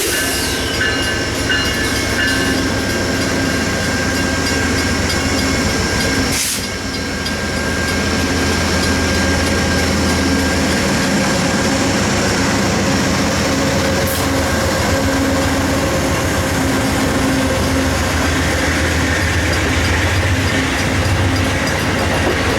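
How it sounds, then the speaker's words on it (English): Amtrak 417 pulls out of Windsor Station heading south, a loud, continuous close-up roar of engine and rolling railcars with steady rumble and wheel clatter filling the whole stretch. "we see Amtrak 417 departing southbound"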